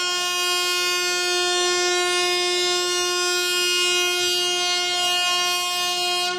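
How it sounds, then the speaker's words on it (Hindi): A Tejas Express train on the Bilaspur–Nagpur route sounds a long, steady horn blast with strong harmonic tones, loud and sustained throughout without a break. "बिलासपुर नागपुर यहाँ पर तेजस एक्सप्रेस चल रही है वंदे भारत एक्सप्रेस की जगह पे।"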